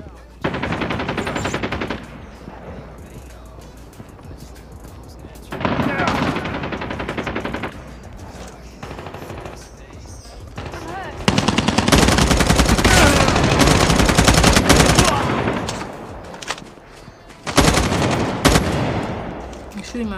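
Bursts of automatic gunfire from the Call of Duty Mobile video game, several long loud volleys separated by short pauses, with occasional talk.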